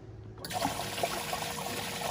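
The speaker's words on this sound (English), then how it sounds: "It's basically going to pump the water that's in there and pump it around in a circle and shoot it back in the top down into the water" A boat livewell recirculator pumps water around and sprays it back down into the tank, producing a steady close-up trickling, bubbling splash that starts abruptly and continues throughout.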